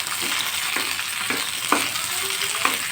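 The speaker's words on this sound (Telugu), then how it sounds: "ఆయిల్ అయితే కొద్దిగా వేడయ్యాక ఇప్పుడు టమాటో ఆనియన్ అయితే వేసేయాలి" Tomato, onion and green chillies fry in hot oil in a pan, giving a steady close sizzle with a few soft stirring knocks at intervals.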